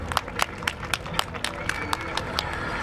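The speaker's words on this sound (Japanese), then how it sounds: "すごい拍手だ" Spectators at the Motor Sport Japan 2016 KTM extreme bike demo clap in a steady, rhythmic beat, the sharp claps rising over a low crowd murmur and babble.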